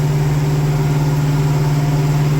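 A farm tractor engine runs steadily in a field during corn sowing, a loud, continuous low drone with a strong hum and no speech over it.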